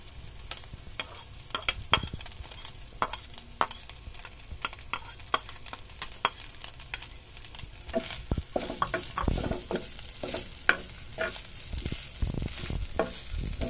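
Fish fries in a pan with onions, giving a steady crackling sizzle broken by frequent sharp pops and spatters, close and alone.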